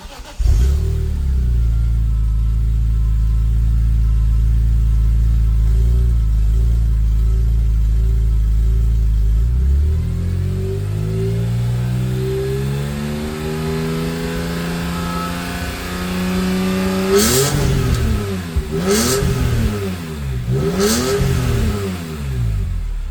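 A BMW M3 engine idles with a deep rumble through its stock muffler, then revs up and down repeatedly, the pitch climbing and falling in several sharp bursts.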